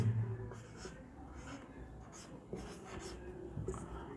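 Writing on a board during a science class: a series of scratchy strokes, near and fairly soft, with faint breathing and room noise between them.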